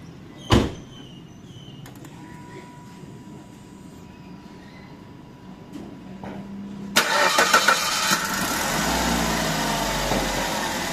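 The engine of a Suzuki SX4 X-Over with a torn engine mounting cranks and starts with a loud burst, then settles into a steady idle. A sharp knock is heard earlier, and no one talks.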